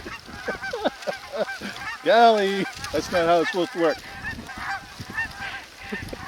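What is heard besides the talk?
geese honking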